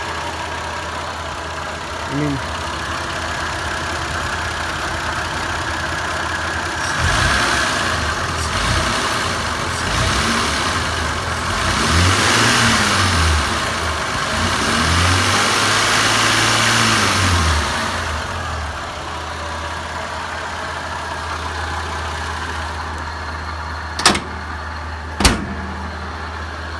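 The engine of a Toyota Land Cruiser 80 runs nearby at a steady mid-pitched idle and is revved several times in rising and falling swells through the middle. Someone speaks briefly, and two sharp clacks come near the end.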